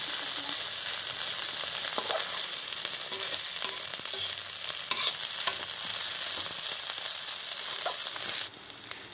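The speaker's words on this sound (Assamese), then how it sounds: "আলুখিনি দি দিয়াৰ পিছত তলফালে জ্বলি নোযোৱাকৈ ইয়াক লৰাই থাকিব" Boiled potatoes are stirred in a pan over heat with eggs, giving a steady sizzle and hiss with faint scrapes of the spoon, then a drop in level near the end.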